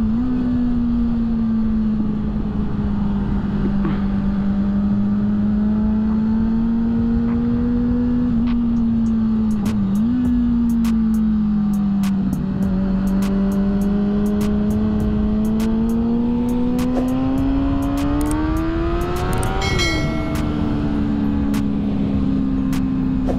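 A Ford Mustang 5.0 engine accelerating hard during wheelies, a loud sustained roar with rising and dipping pitch as revs climb and shift, close and continuous with no talk.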